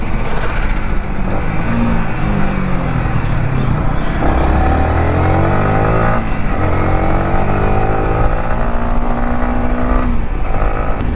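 Several motorcycles rev and roar together on a group ride, a loud, continuous engine drone with rising and falling pitch sweeps as riders accelerate close by.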